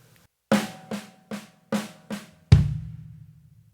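Five crisp snare drum strokes in a steady, slightly uneven right-left-right rhythm, then a heavier kick drum hit with a low boom that rings out alone.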